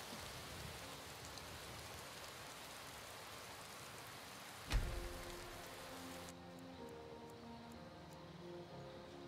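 Soft steady rain patter in the video game Skyrim hisses for several seconds, broken by a sudden thump; afterward the rain cuts out and faint tonal hum remains.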